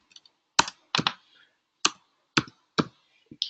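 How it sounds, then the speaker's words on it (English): Scattered clicks from a computer keyboard as a few keys are typed, close and crisp, coming singly and in quick pairs with short pauses between, no voices. "I just start typing these things"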